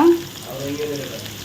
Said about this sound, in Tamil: எல்லாத்தையும் போட்டு நல்லா வதக்குங்க நல்லா மிக்ஸ் பண்ணி காயெல்லாம் வதங்க வச்சோம்